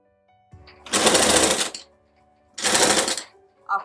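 A sewing machine stitches the lining of a jumpsuit in two loud, close bursts of rapid running, with quiet pauses between them and a third burst starting at the end.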